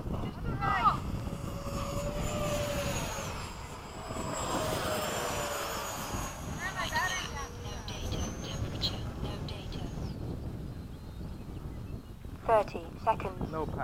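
Freewing 80mm F-5 and F-14 radio-controlled model jets fly overhead, their steady ducted-fan whine rising and falling as they pass at moderate distance, with people talking at times.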